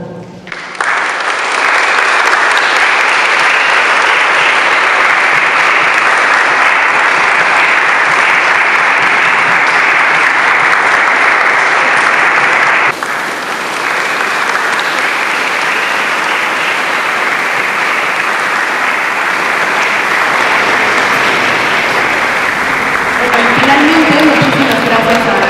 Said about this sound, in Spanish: Un fuerte aplauso para este joven par y su equipo de trabajo.